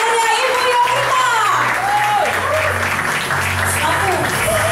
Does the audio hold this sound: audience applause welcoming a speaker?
yes